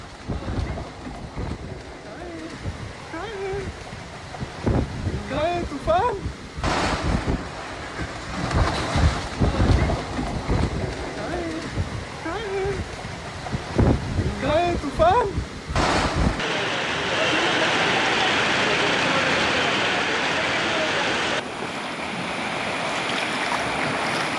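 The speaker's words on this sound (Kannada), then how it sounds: "ಗಾಳಿನೂ ಸಿಕ್ಕಾಪಟ್ಟೆ ಇದೆ ನೋಡಿ" Strong wind buffets and roars across the microphone during a rainstorm, gusting under scattered voices at first, then blowing as a steady heavy rush.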